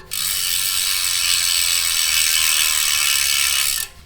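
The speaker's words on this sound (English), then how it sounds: "Here's your free hub sound." A carbon gravel bicycle wheel's freehub buzzes with rapid continuous ratchet clicking, loud and close, holding steady for several seconds before stopping abruptly.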